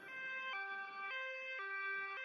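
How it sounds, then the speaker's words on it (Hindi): Loud electronic ambulance siren in a cartoon, alternating between two pitches in a regular hi-lo pattern, close and continuous. "एम्बुलेंस लाडो को लेकर अस्पताल की तरफ निकल पड़ती है।"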